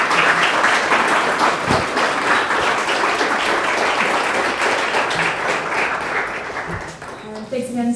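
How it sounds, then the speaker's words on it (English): An audience at a tech talk applauds the speakers, a sustained burst of clapping from many hands that fades at the end as a voice begins speaking. "Let's give it a big round of applause to our speakers."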